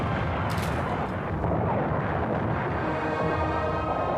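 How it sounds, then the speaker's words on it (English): Artillery bombardment of Leningrad during World War II: a dense, continuous rumble of shelling and blasts with no break, dominated by deep low booms and a sharper crack near the start. "The bombardment is endless."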